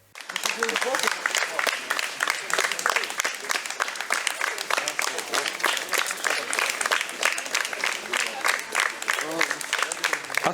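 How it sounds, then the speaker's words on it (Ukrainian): Soldiers applaud enthusiastically after a theatre troupe's performance for the military, a dense, steady burst of many hands clapping close by that continues throughout with no pause. "зустріли військовослужбовців бурхливими оплесками"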